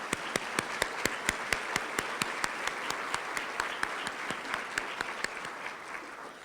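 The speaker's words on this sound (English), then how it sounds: "Please give them a hand of applause." A chamber of commerce meeting crowd applauds its monthly sponsors, a steady, moderately distant wash of many clapping hands with a few sharper individual claps standing out throughout.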